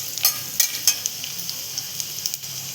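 Garlic cloves frying in a pan, a close steady sizzle broken by short crackling pops and light scraping at irregular intervals.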